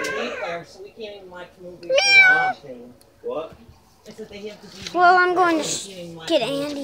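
Cat meowing in a drawing-game round, several drawn-out meows mixed in with a child's chatter and other voices talking nearby.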